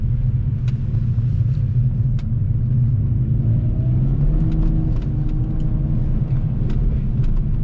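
A BMW E46 drives on snow with a steady, loud low engine rumble, rising slightly in revs midway, and faint scattered crunching and ticking over the top, with no talk.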